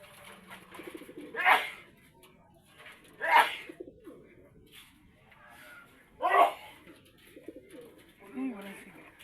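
A released pigeon coos in several soft, spaced bursts outdoors in Matnog, Sorsogon, while people talk nearby between the calls.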